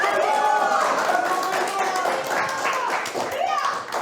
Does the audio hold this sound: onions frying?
no